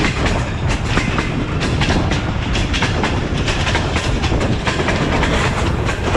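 The Allama Iqbal Express runs through Mehta Suja station, heard from inside a carriage as a loud, steady roar with rapid clickety-clack of wheels over the rail joints.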